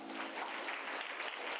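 A crowd applauds at a college graduation ceremony with a dense, continuous wash of many hands clapping at once, steady and moderately distant.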